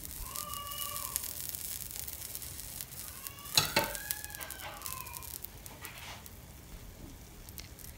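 A ladle of batter for savory pancakes with vegetables and minced meat poured into a hot pan, giving a brief close burst of sizzling, with faint bird-like calls in the background.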